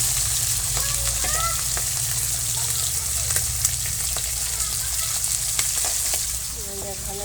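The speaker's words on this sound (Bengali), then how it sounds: "মাছ ভেজে দিয়েছি" Pieces of catla fish frying in hot oil in a village kitchen, a steady close sizzle running throughout with faint occasional clinks and distant bird calls in the background.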